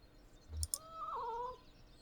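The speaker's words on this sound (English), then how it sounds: "Assertive meow." In the video game Kentucky Route Zero, a cat gives a single assertive meow, a short rising-and-falling cry preceded by a couple of soft clicks, fairly quiet and alone over a faint background.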